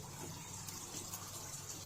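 Water being poured into a pot of chicken curry, a steady gushing pour heard close and alone with no talk.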